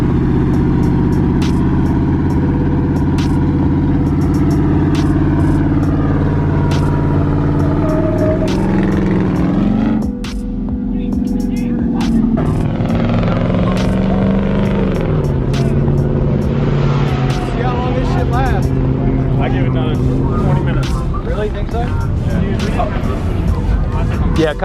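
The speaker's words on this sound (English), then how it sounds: "We do burnouts and we don't tell anybody?" Lifted and squatted trucks do burnouts at a night truck meet in Atlanta. Loud engines roar and rev continuously, with bursts of tire squeal and crackle, close and under people talking.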